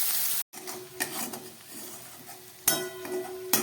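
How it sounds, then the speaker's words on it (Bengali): Chopped onions frying and being stirred in a pan for a shrimp and potato curry, with soft scraping and a few sharp clacks of the spoon against the pan over a low, steady background. "পেঁয়াজটা খুব ভালো করে ভেজে নিলাম।"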